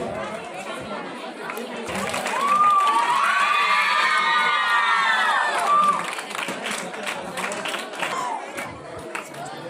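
A crowd at a school sports tournament prize ceremony honouring teachers, with loud chatter, cheering and children shouting, light clapping mixed in, and a swell of cheers in the middle.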